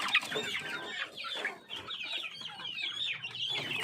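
Several heritage chickens clucking and squawking nearby on a farm, a busy, overlapping chorus of calls without pause.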